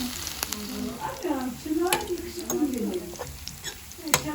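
Potatoes sizzle and crackle steadily in a pan of shallow oil, with occasional scraping and stirring sounds close by, in a village kitchen.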